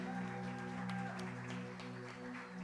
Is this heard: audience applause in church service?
yes